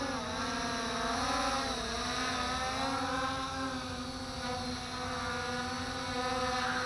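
MJX Bugs 6 brushless quadcopter drone flying close by, a loud steady propeller whine with slightly wavering pitch, continuous throughout and without talking.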